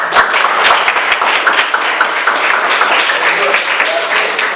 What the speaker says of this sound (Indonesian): Oke, give applause